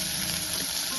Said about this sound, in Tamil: பச்சை மிளகாய் கொஞ்சம் வதங்கினப்புறம் வெங்காயத்தையும் சேர்த்து வதக்கிடலாம்